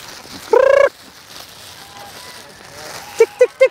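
Chickens and chicks at feeding time on a free-range farm: one loud, close, drawn-out squawk, then three quick short clucks near the end, over faint background noise.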